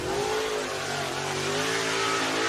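Late model race cars roll out at Needmore Speedway in Norman Park, Georgia, their engines droning and revving steadily at moderate distance, loud and continuous with no voices over them.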